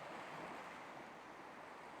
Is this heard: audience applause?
no